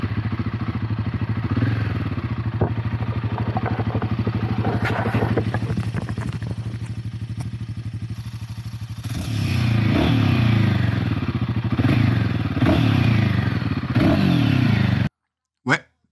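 A Royal Enfield Himalayan 450 single-cylinder motorcycle engine idles with a low, thumping pulse, then revs up louder in repeated surges before cutting off abruptly.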